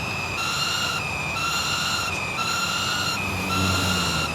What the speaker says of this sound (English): electric race cars in real life do sound really whiny just like this